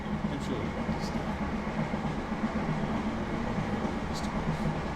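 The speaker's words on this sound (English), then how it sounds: "Damn trains." A train rumbles past in The Wolf Among Us, a steady, dense roar with a low drone that holds at constant loudness throughout, like a close passing rail car.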